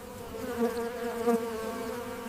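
Honeybees hum in a close, continuous buzz with a clear droning pitch that swells a couple of times, with no voices present.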